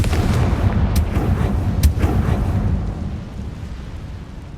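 A Confringo blasting spell explodes in the Hogwarts Legacy video game, a loud rumbling blast with a couple of sharp cracks that then fades into a low roar, with no talk.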